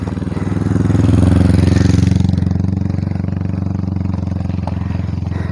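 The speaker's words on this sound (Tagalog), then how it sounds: "Yan mayroon namang motor oh. Delikado dito." A motorcycle engine chugs loudly nearby, its rhythmic putter rising as it draws closer, then easing off as it moves on.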